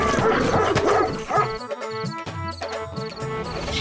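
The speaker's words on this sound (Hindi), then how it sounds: "तब तक सेठ का कुत्ता बिरजू का पिछवाड़ा नोच लेता है" A bulldog yips, whimpers and barks in quick, agitated bursts while attacking someone, close and loud, with music playing underneath.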